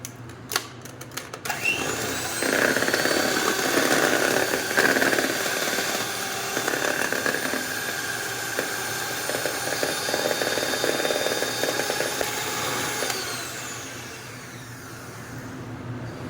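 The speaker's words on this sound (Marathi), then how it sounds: "आपण एकदा पुन्हा डबल मिक्स करून घेणार आहोत बीटरच्या साहाय्याने" An electric beater mixes a coconut ice cream base of fresh tender coconut and condensed milk. A loud, steady motor whir runs for about eleven seconds, then cuts off and fades.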